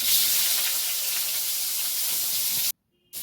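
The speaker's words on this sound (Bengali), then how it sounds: "পাঁচফোড়নটা ফুটে গেছে, এবার আমি কেটে রাখা সবজিগুলো দিয়ে দেব।" Chopped vegetables hit hot oil with spluttering panch phoron and bay leaf, giving a loud steady sizzling hiss close by that cuts to silence near the end before briefly resuming.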